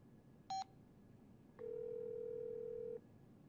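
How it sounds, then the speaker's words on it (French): A brief electronic beep followed by a steady telephone tone lasting about a second and a half as a call is placed in a cartoon, clean and moderately loud over a quiet background. "J'aimerais que vous restiez calme pendant que je passe un coup de fil."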